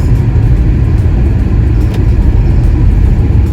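A car drives slowly along a snowy, slippery road in Canada, giving a steady, loud low rumble of engine and tyre noise close to the microphone, with no voices.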